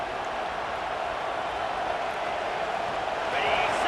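Steady roar of a packed stadium crowd at a Notre Dame versus Florida State college football game, a dense, relentless wash of noise with no breaks, swelling slightly near the end.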